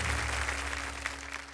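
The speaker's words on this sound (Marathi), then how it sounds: "जोरदार टाळ्या त्यांच्यासाठी." An audience at a Marathi kirtan competition stage show applauds as performers take the stage, a dense, even clapping over a low electrical hum, sustained and fairly close.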